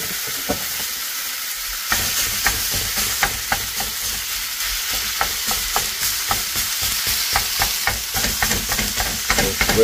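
Casserole ingredients for a bacon cheeseburger casserole stirred in a frying pan, with a steady sizzle under repeated scraping clicks of the spoon, close and fairly loud throughout.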